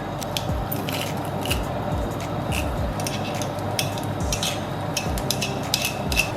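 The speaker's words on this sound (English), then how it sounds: "Stir that around so that it don't burn" A utensil scrapes and clinks repeatedly against a frying pan, stirring crushed garlic in butter, in an irregular rhythm over a low, steady sizzle.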